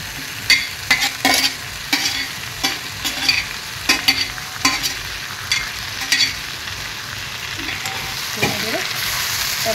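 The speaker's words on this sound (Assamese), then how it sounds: "তাৰপিছত কচুখিনি এনেদৰে বহুৱাই দি দিব" Taro pieces fry in a pan of oil for an Assamese fish curry: a continuous bright sizzle under a series of sharp spoon scrapes and stirring knocks, close and fairly loud, with no talking.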